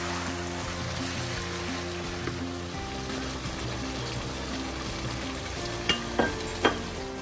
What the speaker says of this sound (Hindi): चिकन अच्छे से भुन गया